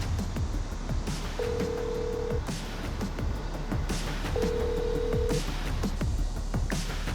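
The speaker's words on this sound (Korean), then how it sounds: "대표가 최근에 바꿨다는 휴대전화 번호로도 연락해봤습니다." Two steady electronic phone tones, each about a second long, sound while a mobile phone number is being called, under ambient background noise and rustling.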